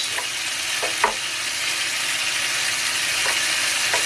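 Eggplant and potato pieces sizzle steadily in a frying pan while being stirred, with a continuous hiss and a few soft utensil scrapes near the start and end.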